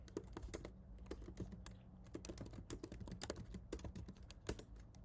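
Fingers type a git command on a computer keyboard, with quiet rapid key clicks in an uneven stream and short pauses, close and alone.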